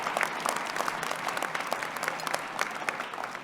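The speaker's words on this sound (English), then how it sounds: "Please give a round of applause again for all of our incredible faculty" Graduation audience at a fall convocation ceremony applauds the faculty, giving a steady, even patter of many hands clapping that is heard from a moderate distance and holds at a consistent level throughout.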